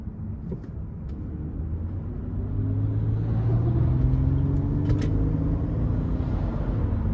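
A 2008 Lexus ES 350 with a 3.5-liter V6 accelerating in manual shift mode, heard from inside as a steady low engine drone that rises in pitch and grows louder, with faint cabin noise.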